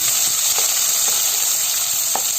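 Onions sizzling in hot oil with cumin seeds and bay leaf for jackfruit sabzi, a loud, steady close hiss with faint crackles.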